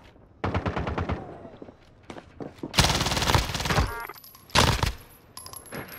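Rapid bursts of automatic gunfire crackle through a Call of Duty Warzone Rebirth match, loud, close, dense volleys broken by short pauses, with a few sharp single shots near the end.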